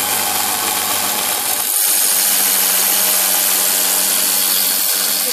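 Belt grinder shaping a bushcraft knife at a forge, a loud continuous motor whine and abrasive hiss, the pitch shifting as the blade meets the belt, no talk.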